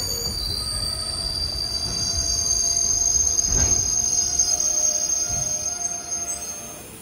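A passenger train pulls into a small Kerala railway station after rain, its wheels squealing in a loud, sustained high-pitched screech over a rumbling undertone, close by.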